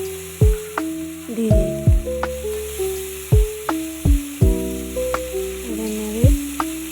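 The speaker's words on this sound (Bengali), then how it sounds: "নেড়ে একটু টমেটোগুলো কাঁচা গন্ধটা যেন চলে যায়।" Chopped tomatoes fry with ginger paste and turmeric in a pan, a steady sizzle broken by repeated sharp scraping strokes of a spatula stirring, close and fairly loud; one brief spoken word passes.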